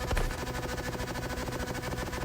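An engine-swapped car idles with a rapid, continuous crackle of exhaust pops, loud and close, with one sharper burst at the start and no talking.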